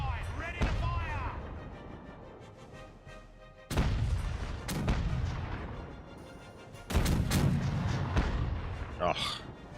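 Broadside of ship cannons firing in the pirate naval game Caribbean Legend, heard as three loud booming volleys spaced a few seconds apart, each followed by a rumbling decay with crackling debris.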